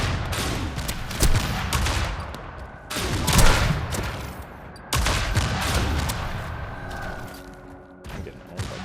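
Heavy turret fire in the Tribes 3 shooter game, with a steady barrage of loud blasts and impacts, a few sharper bursts, and no talk over it.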